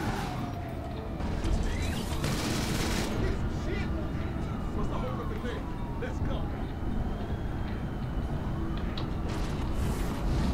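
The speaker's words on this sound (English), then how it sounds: "I'm gonna have to use my minigun for now." A minigun fires in GTA 5 Online during a gang shootout on Grove Street, a dense, continuous roar of rapid gunfire with heavy clatter that runs unbroken from start to end.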